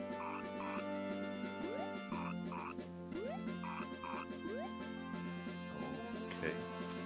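A frog croaks repeatedly in the video game Mother 3, with short bubbly croaks recurring at a steady pace over continuous looping game music.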